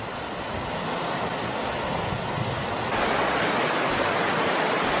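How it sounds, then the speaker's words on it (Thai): A waterfall pours down beside a walkway in the Zhangjiajie canyon, giving a dense, continuous, close roar of falling water that stays loud and unbroken throughout. "น้ำตกมันลงพอดี"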